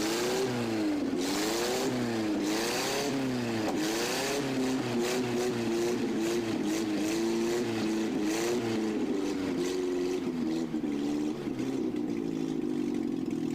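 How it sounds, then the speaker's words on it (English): A tuned car engine in a video game revs in rising and falling waves, then settles into a steady loud drone, with no talk over it. "The engine sounds actually good"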